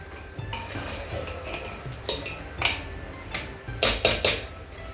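Ginger garlic paste for mutton biryani being fried in a pan, with a spoon scraping and clinking against the metal amid a low background hiss, several sharper clanks near the end; no talk.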